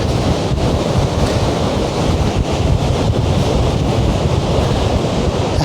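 Surf breaks and wind blows hard at Fistral Beach in Newquay, a loud continuous roar of waves mixed with heavy buffeting wind on the microphone, with no voices.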